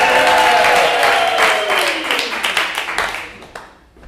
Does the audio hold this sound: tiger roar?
no